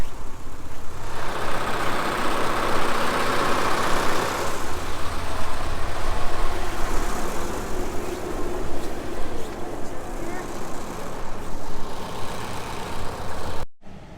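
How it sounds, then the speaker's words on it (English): Engine-driven water pump running steadily at close range, draining floodwater from a flooded rice field, a constant low mechanical drone with a brief rise in rushing noise early on before cutting off at the end. "Alright, we got our pump set. It's going. Pumping out there."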